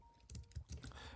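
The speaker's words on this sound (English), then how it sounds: "let me go ahead and start typing" Typing on a computer keyboard, a quick burst of close key clicks with no one talking.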